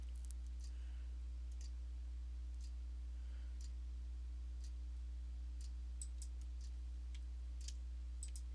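Sparse, faint computer mouse clicks sound while navigating the AWS console, scattered irregularly over a constant low electrical hum with no talking.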